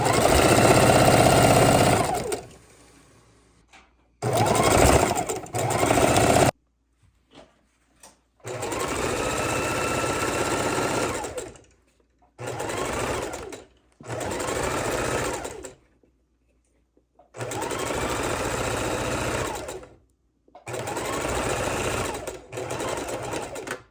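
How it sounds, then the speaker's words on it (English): Sewing machine chain stitching quilt blocks in repeated bursts, a fast mechanical chatter starting and stopping several times with short silent pauses between runs. "put that in the sewing machine, and we're going to chain stitch all 4 of those blocks"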